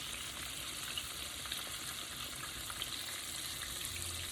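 Catfish pieces frying in a pan of oil, a steady soft sizzle with faint crackles running evenly throughout, no voices.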